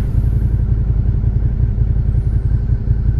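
A Suzuki Gixxer sport motorcycle rides past on a road in Wilmington, Vermont, its engine a loud, steady rumble heard up close from a passing car, with no speech over it.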